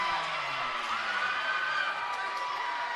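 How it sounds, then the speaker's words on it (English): A high school volleyball crowd in a gym cheers and shouts loudly and steadily, a continuous roar with whoops rising above it. "And this crowd's pumped up now."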